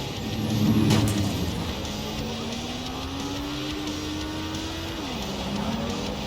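Cars driving on the streets of futuristic London in Watch Dogs Legion, one engine swelling close by, then a steady motor hum with a rising and falling engine tone, no talking.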